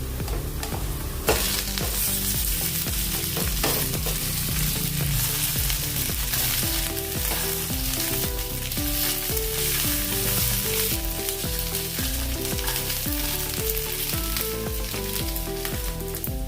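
Raw potato poha roasting in a pan sizzles loudly and steadily while a spoon stirs through it, with tonal background music running underneath and no speech.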